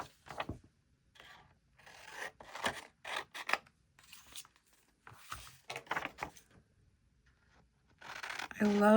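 Scissors cutting paper for an accordion gluebook, heard as close, intermittent snipping and rustling strokes separated by quiet gaps, with someone speaking softly between cuts.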